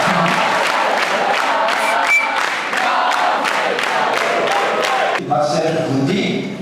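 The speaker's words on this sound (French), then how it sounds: "vraiment vous pouvez les applaudir" A large crowd at a World Youth Day 2023 event claps and cheers loudly, with shouts rising over continuous applause, which cuts off abruptly near the end.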